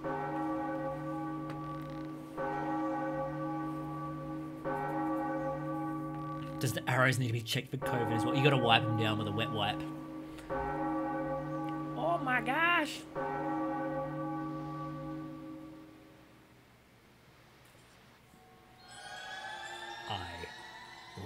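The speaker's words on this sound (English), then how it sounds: "Oh, I get to ring the bell." A bell rung in a Zelda video game sounds with steady, ringing harmonic tones through most of the stretch, under a player's chatty talk and an excited exclamation, fading near the end before a short chirpy game sound.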